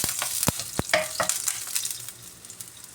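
Chopped garlic hits hot oil in a pan, crackling and spitting loudly with a burst of sharp pops at first that settles into a steady, close sizzle.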